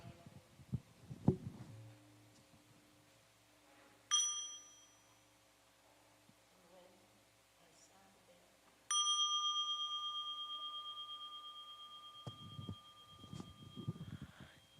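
A mindfulness bell is invited twice at a dharma retreat, each strike ringing out clearly and sustaining a long, slowly fading shimmer, with quiet speech before the first strike and after the second tone.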